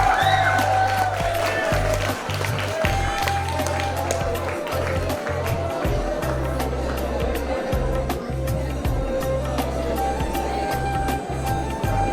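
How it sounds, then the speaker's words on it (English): Sustained applause and clapping from an audience at a high school graduation ceremony, a dense steady patter of many hands lasting throughout with a voice talking over it. "Can we have a huge round of applause?"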